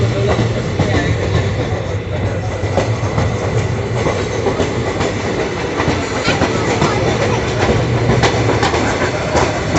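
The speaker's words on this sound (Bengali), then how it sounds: "এখানে কিন্তু ঘুরছে ট্রেনটা পুরো একশো আশি ডিগ্রি ঘুরছে" A long passenger train on the Sealdah to Sabroom route climbs a curving hill track, with a loud continuous rumble and steady clickety-clack of wheels on rails, heard up close from on board.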